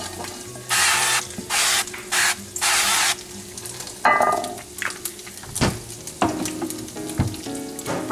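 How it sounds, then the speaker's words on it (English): Cooking spray hissing into a casserole dish in a home kitchen, four loud close bursts of aerosol spray in quick succession, followed by clattering and light handling noises. "I'm going to spray the casserole dish."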